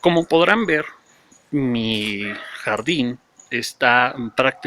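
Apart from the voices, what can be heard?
None of the usual background noises is heard.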